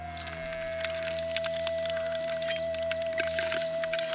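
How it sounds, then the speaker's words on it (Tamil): Curry leaves crackle and sizzle in hot oil with mustard seeds, a dense continuous frying hiss with scattered small pops, close up over a steady hum. "கறிவேப்பிலை நல்லா பொரிஞ்சிருச்சு."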